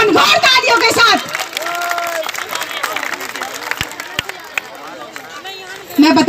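An audience clapping at a Dussehra celebration, a steady wash of applause rising after a voice and continuing under scattered voices and chatter before speech returns.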